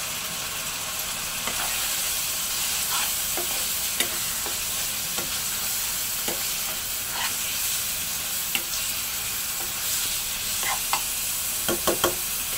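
Spices and turmeric stir-fried in oil for beef liver bhuna give a constant loud, close sizzle, with scattered spoon scrapes and taps against the pan throughout.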